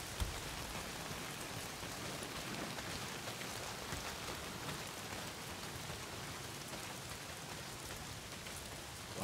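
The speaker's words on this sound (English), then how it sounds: "Well, not if it's pissing down rain." Heavy rain pours down steadily in the video game Days Gone, a dense, continuous hiss of drops on surfaces with no voices, loud and unbroken throughout.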